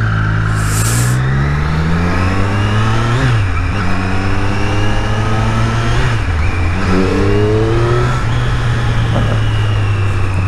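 Triumph Street Triple R 765 A2 motorcycle engine accelerating up through the gears, a loud close rising whine that drops at each shift and climbs again, repeating several times.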